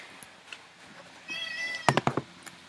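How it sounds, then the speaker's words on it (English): A house cat meows once, a clear rising-and-falling cry, followed by a few sharp knocks or taps nearby in a quiet room. "Kitty, say hi to the internet, Kitty."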